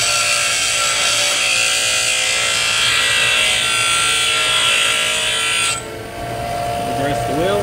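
A bench grinder wheel shapes a lathe threading tool with a steady, loud, bright grinding whine. Near the end the contact stops and the tone drops to the wheel spinning free.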